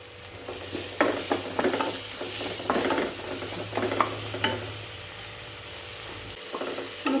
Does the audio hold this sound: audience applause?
no